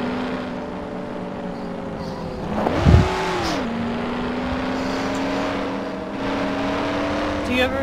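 A passenger car drives in the Mafia video game, its steady engine drone holding a low hum with one brief swell and rev near the middle, while people talk over it.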